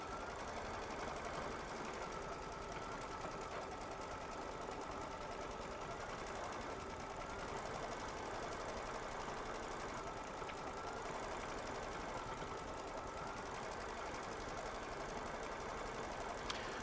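A Baby Lock Solaris embroidery sewing machine stitches a quilting design in the hoop, a steady fast mechanical whirr and rapid needle clatter running continuously at moderate volume without talk.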